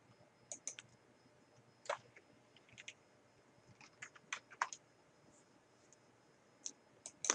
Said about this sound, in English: I'm going to click on the file